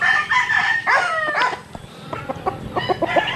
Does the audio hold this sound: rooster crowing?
yes